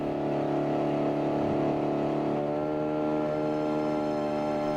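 Speedboat engine droning steadily and fairly loud, a sustained harmonic hum that drops slightly in pitch about halfway through, with no voices.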